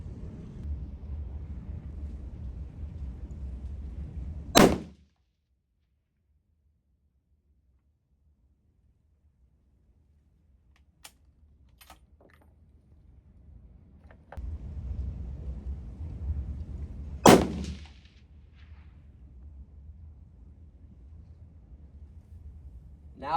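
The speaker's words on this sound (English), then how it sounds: "So anyway, we'll shoot a couple shots." Two sharp, loud rifle shots crack about twelve seconds apart, fired at a target with a chronograph set up. Each one cuts off a steady background rumble, and faint wind noise fills the gap between them.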